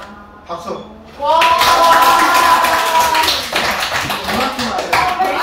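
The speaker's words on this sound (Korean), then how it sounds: "박수." A class of sixth-grade children bursts into loud, sustained clapping during a forest education lesson, with voices cheering over the applause after a brief quieter moment.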